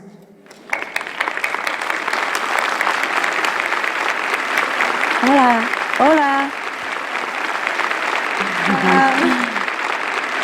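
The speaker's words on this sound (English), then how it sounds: "Let's welcome Supreme Master with a warm round of applause." A warm round of applause from an audience in Jalapa City, Mexico, welcoming a guest of honor to an event, sustained and fairly loud throughout, with a few voices speaking greetings over it midway and near the end.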